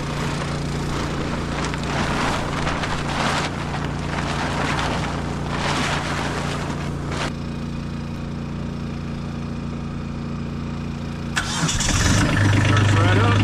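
A tractor engine cranks and starts in the cold at an Alaska homestead. Several seconds of rough cranking and sputtering come first, then a quieter stretch, then the engine catches with a deep steady rumble. A person's voice is heard along with it.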